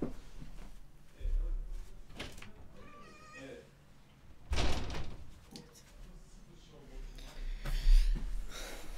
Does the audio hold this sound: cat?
yes